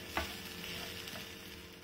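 Peas sauté lightly in a pan with a soft, faint sizzle and one brief stirring clink at the start.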